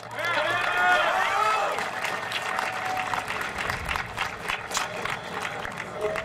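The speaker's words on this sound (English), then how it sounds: "Let's give them a round of applause." A graduation crowd at San Bernardino High School claps for the teachers and classified staff, a dense, steady wash of many hands sustained throughout, with whoops and cheering voices rising over it early on before the clapping continues alone.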